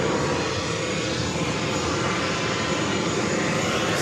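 An airliner takes off at New York JFK airport, a steady, loud roar of jet engines that holds without a break.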